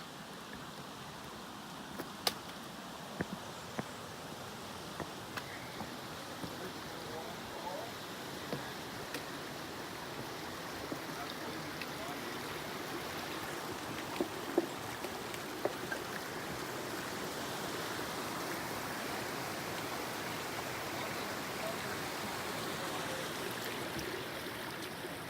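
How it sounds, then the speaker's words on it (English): A small babbling brook beside a steep portage trail on a backpacking route through Algonquin's Highland Trail, flowing as a steady, fairly faint wash of trickling water with occasional louder splashes, heard close by without talk. "This little babbling brook here."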